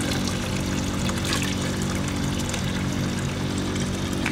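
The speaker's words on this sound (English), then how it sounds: "let it all drain out, and then press it down, and we put all the finished wine into this other tank." Freshly pressed Graciano red wine gushing from a winery press into a tank, a loud, steady rushing pour with constant splashing and a low mechanical hum underneath, continuous throughout.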